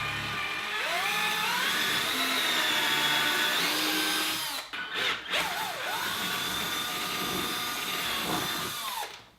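A power drill bores a guide hole, its motor whining steadily and loud for several seconds, then stuttering through a few short bursts before running again at a steady pitch and cutting off.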